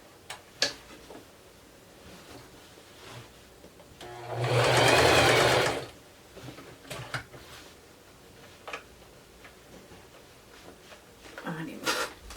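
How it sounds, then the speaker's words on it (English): A sewing machine stitches through denim and fabric in one steady burst of about two seconds, loud and close. Quieter taps and handling noises come before and after it, and there is no talking. "I'm going to stitch it so that it goes like on and off the fabric"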